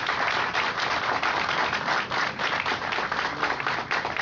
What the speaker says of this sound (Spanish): yo creo que eso se merece un aplauso.